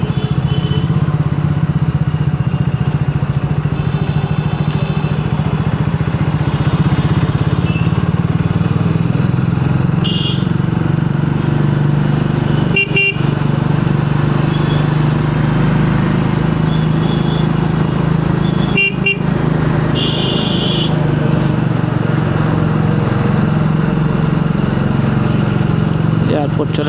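A motorcycle rides through traffic on a long road trip from Kolkata toward Kalimpong near the airport, its engine droning steadily and loudly throughout, with wind rush, occasional horn beeps and passing vehicles, and a person talking over it.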